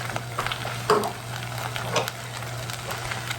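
Rotel canned tomatoes go into a sizzling skillet of beef tamale casserole with soup, a steady frying hiss with a couple of soft splashing stirs and a low electrical hum underneath.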